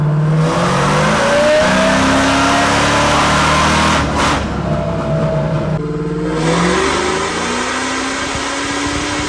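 A car engine on a dyno revs hard and climbs in pitch through the gears, loud and sustained, with brief drops between pulls and no talking.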